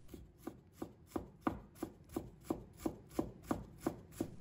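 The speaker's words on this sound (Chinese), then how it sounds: "然后切成末。" Knife mincing fresh ginger on a cutting board, a steady series of about a dozen crisp, evenly spaced chops, close and clear with no talking.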